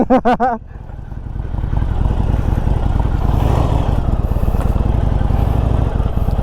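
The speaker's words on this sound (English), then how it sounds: "Alright, we're riding this Harley." A Harley-Davidson Iron 1200 motorcycle on the move, a steady, close engine rumble with a throbbing pulse that follows a brief spoken word at the start.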